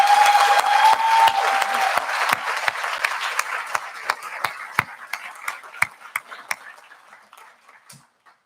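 An audience applauds district and council volunteers at a Scout celebration event, a dense burst of clapping that thins out over several seconds into scattered individual claps.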